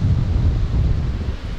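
Strong wind buffets the microphone at a riverside while carp fishing on the Don, a loud, continuous low roar and rumble with no talking.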